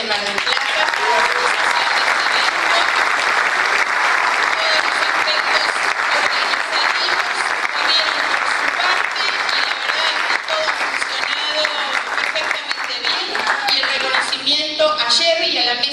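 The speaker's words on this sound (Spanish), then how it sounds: "vamos a sellar con un aplauso a Pablo Farías, al GEM de Mar del Plata" Sustained audience applause at a GEN party event in Mar del Plata honoring Pablo Farías, dense steady clapping filling the room for about sixteen seconds with faint voices beneath and no pause.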